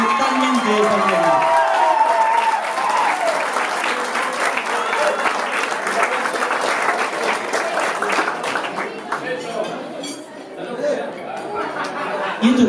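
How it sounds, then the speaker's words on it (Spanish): Loud audience applause for graduates celebrating their graduation during a pandemic year, dense and sustained throughout, mixed with crowd chatter, a few chuckles and voices over the clapping, dipping briefly near the end before swelling again. "vale la pena reconocer con un fuerte aplauso a estos genios"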